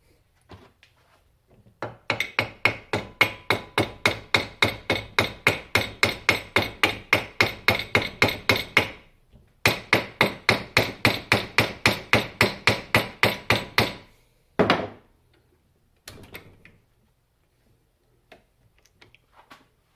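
A hammer strikes scrap rebar clamped in a vise while a spear fishing tip is forged, two long runs of rapid, evenly spaced loud metallic taps separated by a brief pause, then one heavier hit and a few scattered knocks.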